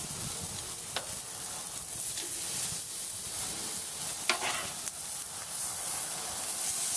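Steady, loud sizzling and hissing of chicken breasts and thighs searing over hot charcoal, with a few sharp crackles and pops rising above the constant frying noise.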